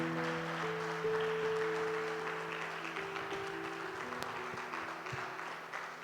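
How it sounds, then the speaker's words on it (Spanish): A church congregation claps together, a soft, sustained patter of applause under faint background tones, fading gradually as it continues. "Dale un aplauso al Señor."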